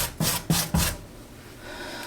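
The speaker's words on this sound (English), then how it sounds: "the more we add and the more we scrub, the more the stain is fading away." Laundry stain on pants being scrubbed by hand, three brisk close rubbing strokes in quick succession, then a quiet pause.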